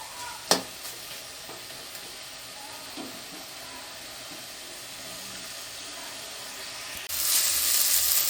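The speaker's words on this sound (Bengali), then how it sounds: "এখন আরেকটু কষে নেব আমি" Black taro curry is stir-fried in a pan, giving a soft continuous sizzle with a sharp clank of the spatula early on, a few quieter scrapes, and a louder burst of hissing near the end, all close and without talking.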